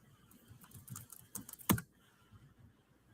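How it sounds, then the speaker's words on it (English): Keyboard typing in a room during a casual podcast chat, a short run of soft clicks building to one sharper clack near the middle, then quiet room tone. "Why are you typing?"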